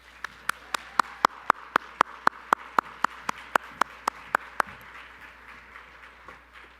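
Clapping from a conference plenary audience, a run of about seventeen evenly spaced sharp claps over a low room hum before fading out, with no voices.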